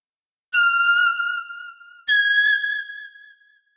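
Sampled sound triggered by a MIDI sequence in a Wwise sampler, heard as two separate whistle-like tonal notes at different pitches, each sustaining and then fading, with the second note pitched slightly higher.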